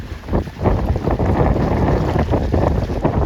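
Steady, loud wind buffets the microphone while sailing 29er dinghies in about 11 knots, a continuous roaring rush with gusty swells throughout and no talk.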